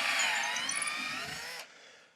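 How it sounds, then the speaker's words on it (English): A power drill bores through a wooden wall stud, a close, high whining grind that holds steady for under two seconds before cutting off abruptly. "as I drill through that stud"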